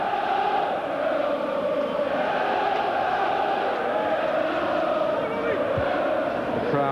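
A home football crowd at a 1994 Luton Town v Newcastle United FA Cup fourth round replay, packed close to the pitch, roars in a steady dense wall of noise while a commentator speaks over it.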